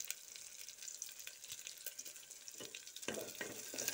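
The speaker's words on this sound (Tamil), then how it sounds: "வெங்காயம் மிளகாய் எல்லாம் நல்லா வதங்கனதுக்கு அப்புறம்ங்க" Onions and dried red chillies sautéing in a pan for an egg gravy, a faint continuous sizzle with soft stirring scrapes that grow slightly louder toward the end.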